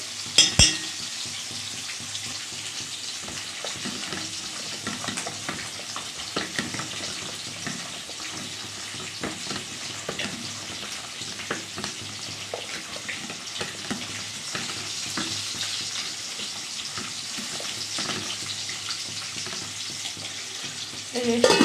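Pieces of rohu fish frying in hot oil in a pan, a constant, fairly loud sizzle and crackle with occasional faint clinks, lasting throughout.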